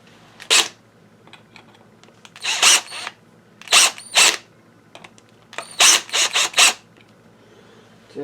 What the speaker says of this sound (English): We'll run a couple bolts into it.